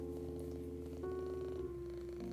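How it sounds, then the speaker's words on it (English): A contented cat purrs steadily and close up, a low continuous rumble with no talking over it. "Ah, happy kitty."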